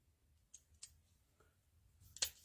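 A router bit snapping into place in a carving machine for relief carving, a few faint, sharp plastic clicks spaced apart in a quiet room, the last one loudest.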